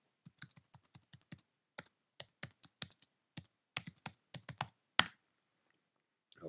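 Login details are typed on a computer keyboard in close, crisp keystrokes, in quick bursts with short pauses, ending in one louder key press.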